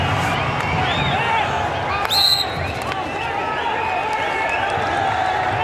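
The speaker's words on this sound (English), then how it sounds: "And listen to the Indian crowd. They're pretty happy it's not a goal." Indian crowd at a men's field hockey Commonwealth Games semi-final between India and England, a dense roar of many voices with whistles and shouts, under a commentator's speech, with a brief louder swell in the middle.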